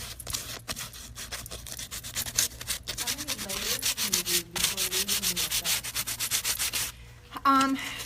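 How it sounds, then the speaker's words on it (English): A painted wooden surface being lightly sanded, giving a steady, close rasping scrub in quick back-and-forth strokes that continues almost without a break, then stops near the end. "you want to make sure that you lightly sand it just to soften it"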